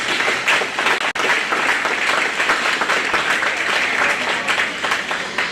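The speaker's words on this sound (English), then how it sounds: "let's start with a big round of applause for all these kiddos, please" Dense, steady applause from a large audience at a county fair show ring, cheering the children showing there, with one brief dip before the clapping resumes and carries on loud and even throughout.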